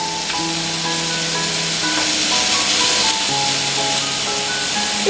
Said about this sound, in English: Put your steaks in. Fry off.